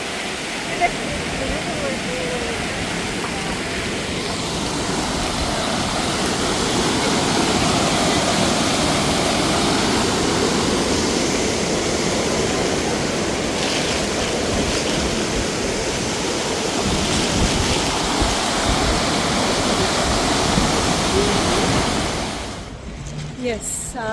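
Flowing water of the Hiranyakeshi River near its source rushes in a steady, loud, continuous wash, close by, with faint voices briefly under it.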